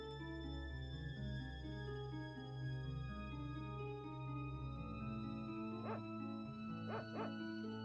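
The sacred dog in the video game Secret of Evermore gives a few short synthesized yips and barks near the end, over continuous layered game music.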